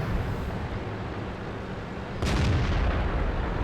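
Tank cannon firing in World of Tanks, a single heavy boom landing suddenly over steady rumbling battle ambience.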